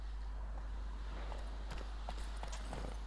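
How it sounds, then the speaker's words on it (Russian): A horse gallops in The Witcher 3 video game, a faint, quick run of hoofbeats over a steady low hum. "Вот наша лошадка бежит вот там."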